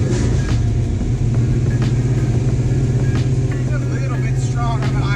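A 1970 Ford Mustang's carbureted engine runs on the fast idle cam, giving a loud, steady, raised-idle drone with no change in pace. Voices are heard faintly over it.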